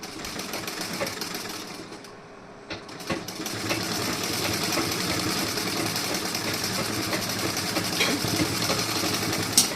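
A sewing machine runs steadily and close, stitching the back design of a blouse with a continuous rapid whirring hum and a short pause near the start.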